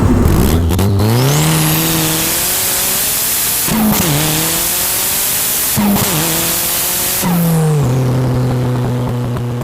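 An old-school four-wheel-drive hot hatch engine revs hard and loud up close, rising through several gears with brief dips at each shift, a continuous roaring drone throughout.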